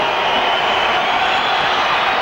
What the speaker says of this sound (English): Big crowd behind him doing their best to put him off.